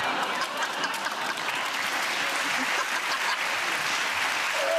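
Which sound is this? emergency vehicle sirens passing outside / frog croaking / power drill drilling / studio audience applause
studio audience applause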